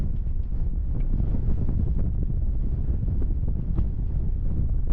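Strong wind on a hilltop above the Coachella Valley buffets the microphone in a loud, continuous low rumble with gusty fluctuations throughout.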